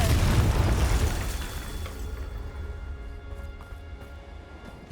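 A Confringo fire spell explosion in Hogwarts Legacy, a loud booming blast that hits at once, then fades through a long rumbling decay with faint crackles.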